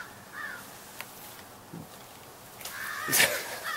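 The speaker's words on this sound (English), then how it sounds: "Look at those birds up there. They're saying something." Crow-like birds caw overhead, a few scattered calls at a distance with a louder burst of cawing near the end, over faint outdoor ambience.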